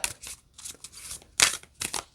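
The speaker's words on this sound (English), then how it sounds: "we're going to pick a card from this one as well. So let's shuffle them and see what comes up." Ancient Stones Oracle cards shuffled by hand in a quiet room, a run of soft papery riffling bursts with short pauses between them, close and moderately loud, with no speech.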